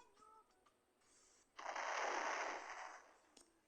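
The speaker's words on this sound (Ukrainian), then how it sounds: "А я реактор бахну." A broad noisy explosion of a reactor in Roblox Brookhaven roars up after a moment of faint mechanical sounds, sustaining for over a second before fading, fairly quiet overall.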